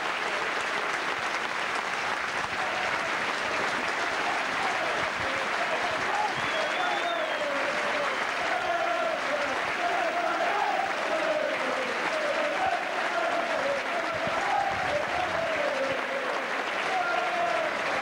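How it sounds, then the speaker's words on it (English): Norwich City away supporters applauding at a football match as a Burnley player departs, a steady, distant crowd clapping sustained throughout with faint stadium murmur and no clear speech. "The Norwich fans applauding the departure of Glenn Little, which is very good from away supporters."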